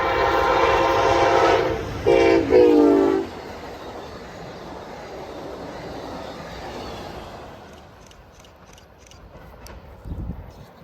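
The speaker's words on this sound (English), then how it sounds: "we'd see Amtrak 333, the Hiawatha service from Chicago to Milwaukee, led by a Charger and pushed by Amtrak 9221" Amtrak 333, the Hiawatha service from Chicago to Milwaukee, led by a Charger locomotive and pushed by unit 9221, sounds a loud horn in several blasts early on, then rolls past with a steady rumble that fades away.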